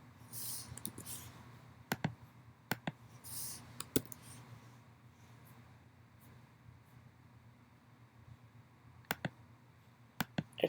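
Computer mouse clicks and scattered keyboard keystrokes sound in sharp, isolated taps on inspection software while captions are typed, close and quiet over a steady low room hum, spaced irregularly with short clusters.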